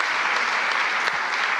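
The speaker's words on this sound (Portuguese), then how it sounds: "Vamos aplaudir a palavra do Senhor." Church congregation applauding, a dense, even roar of many hands clapping close together, loud and continuous with no talk over it.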